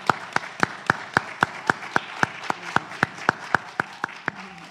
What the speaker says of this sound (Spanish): despidamos a Paola con un aplauso, por favor